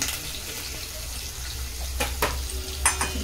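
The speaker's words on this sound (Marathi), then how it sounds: "कांदा चांगला परतून घेऊया" Chopped onion with curry leaves sautéing in a pan sizzles steadily up close, and a few sharp scrapes and knocks from a spoon turning them come near the end, with no speech over it.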